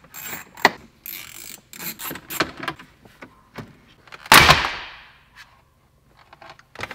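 Close mechanical clatter from a car dashboard as bolts holding the radio and climate control are worked loose, with ratcheting clicks, rustles and one loud scraping clunk that trails off, then sparse small taps.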